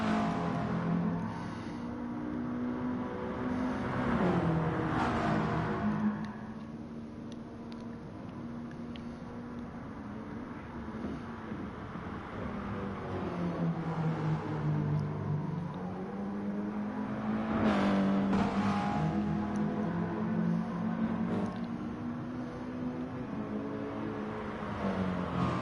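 Audi and McLaren race cars in a racing video game on the Dragon Trail circuit, engines droning and sweeping in pitch as they pass and accelerate, steady and moderately loud across the whole stretch, no talking.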